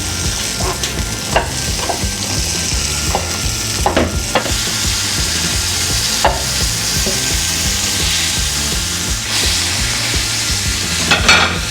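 Split hot dogs sizzle and fry steadily in a hot pan, a continuous crackling hiss broken by a few sharp scrapes and taps, close and fairly loud with no talk.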